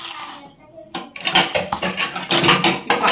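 Dishes, pots and pans being washed by hand at home, with repeated clattering and clinking of metal and crockery, close and irregular, and a voice briefly heard at the start.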